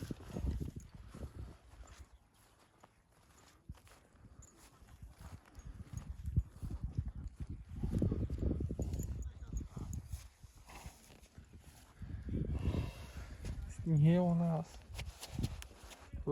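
Horses from Ternopil stamp and clip-clop outdoors in spring, hoof sounds mixed with close conversation and a short whinny-like call near the end.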